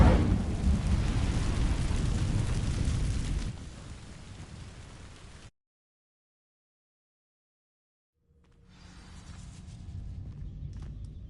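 An Incendio fire spell ignites dry vines in Hogwarts Legacy with a loud, roaring burst of flame that holds for several seconds, weakens, then cuts to silence before a quieter fiery rumble swells back in.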